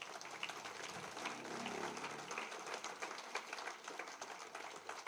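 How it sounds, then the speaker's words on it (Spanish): A church congregation applauds, a steady wash of clapping heard from some distance at low volume, holding evenly for about five seconds without any talk. "Dale un aplauso fuerte a Él."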